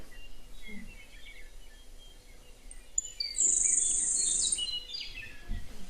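A sparrow in Idaho sings a very rapid, high-pitched trill that holds steady for about a second, standing out clearly over soft outdoor background with faint other birds around.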